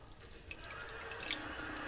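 Water runs into a cast iron pot for cleaning, a steady close splashing stream that holds for about two seconds with no one talking.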